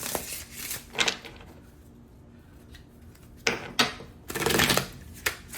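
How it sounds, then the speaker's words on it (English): Tarot cards are shuffled by hand in a few separate bursts of riffling and slapping, close and crisp, with quiet pauses between and no talking. "That means the shuffling is done."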